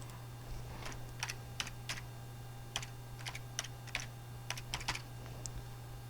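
An algebraic equation is typed on a computer keyboard in quick, irregular bursts of crisp key clicks, close and clear over a low steady hum, with no talking.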